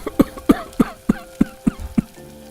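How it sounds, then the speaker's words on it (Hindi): Someone in a smoky kitchen coughs repeatedly, seven harsh close coughs in an even rhythm about every third of a second, with a short throat-clearing hum at the end. "अरे मुझे भी बहुत खांसी आ रही है।"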